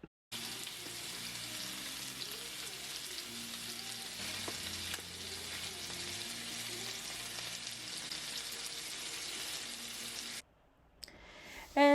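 Chuck roast sears in a hot pan with a loud, steady sizzle and crackle that runs unbroken for about ten seconds, then stops abruptly, followed by a brief clatter.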